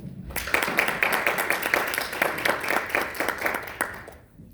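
Audience at a peace conference breaks into dense, loud applause to welcome Professor Kwon Jun-taek to the first session, a steady wash of many clapping hands that swells quickly and tapers off at the end.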